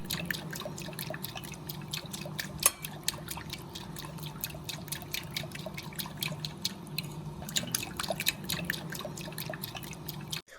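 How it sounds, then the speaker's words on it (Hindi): Water added a little at a time to gram flour batter, with a fork mixing it in a bowl: a steady run of small wet drips and clicks over a soft trickling bed, close and fairly quiet, no talking. "थोड़ा थोड़ा करके हम इसमें पानी डालेंगे और फोर्क की मदद से इसे मिक्स करते जाएंगे"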